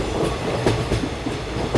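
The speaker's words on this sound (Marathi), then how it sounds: "काही अंतर ट्रेन पुढे गेल्यावर," A train runs along a railway track as a horror-story sound effect, its wheels clicking rhythmically over rail joints in a steady, moderately loud clickety-clack.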